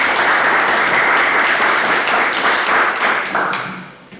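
A hall audience at an evening talk gives sustained, dense applause for about four seconds, many hands clapping together before it tapers off near the end.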